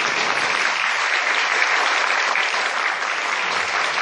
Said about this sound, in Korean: 우리 큰 박수로 감사를 표하겠습니다.